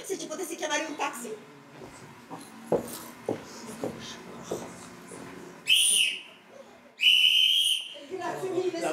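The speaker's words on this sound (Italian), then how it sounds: "Ma lì è mica un fischietto da culla, è di quello per fare sport!" A sports whistle sounds during a stage play, two sharp, shrill blasts a second apart, with actors' voices speaking before and after.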